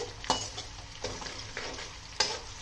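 Spices sizzle and crackle in hot oil, with a few louder stirring scrapes breaking through the steady frying hiss.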